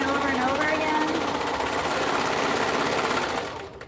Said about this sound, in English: serging in a perfect circle